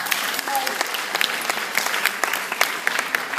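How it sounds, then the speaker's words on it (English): An audience applauds a woman on stage, dense sustained clapping with crisp individual claps standing out throughout, with a voice heard faintly beneath. "Let's give her a round of applause"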